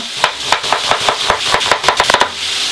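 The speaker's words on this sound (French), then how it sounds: "j'ai largement le temps d'émincer mes oignons" A knife chops onions on a board for a beef and carrot stew, about a dozen crisp, close knocks in an uneven rhythm, clustering quickly near the end, alone with no talk.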